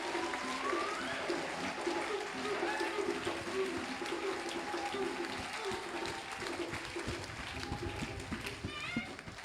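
Church congregation applauding by acclamation during a choir consecration service, sustained clapping at moderate distance with voices mixed in underneath.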